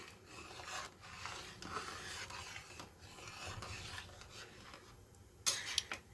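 A ladle stirring a grainy milk cake mixture of milk curdled with vinegar in a pan: steady soft scraping and rubbing against the pan bottom, close and continuous, ending in a sharper metallic clink.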